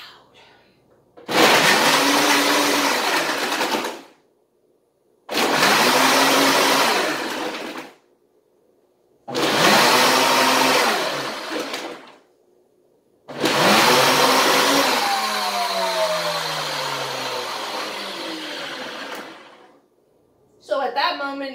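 Blender run on frozen drink mode while making a homemade iced cappuccino, loud grinding whirs in four pulsed bursts with short silent gaps, the last burst running longer and winding down, then a brief restart at the end.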